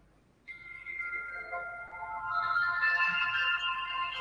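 An incoming phone call rings with an electronic ringtone, a steady melodic tone that grows fuller and busier as it continues, heard alone without speech.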